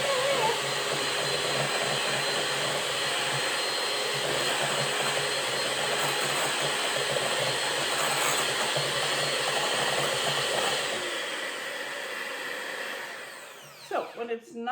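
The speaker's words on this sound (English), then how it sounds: "we're going to beat the starch or the butter until it's creamy" An electric mixer beats butter for white chocolate icing, a steady loud whirring motor that runs continuously for most of the clip before slowing and clattering to a stop near the end.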